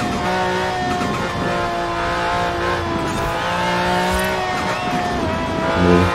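A car engine in Forza Horizon 4 screams near its rev limit, a steady high-pitched whine with harmonic layers holding and shifting, loud and close with a brief tire or revving surge near the end.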